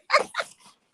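A dog gives two quick, close barks followed by a softer trailing yip, then silence.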